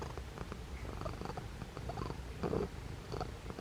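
Margot, a pet cat, purrs up close in a steady low rumbling loop that pulses gently with each breath, alone with no talk.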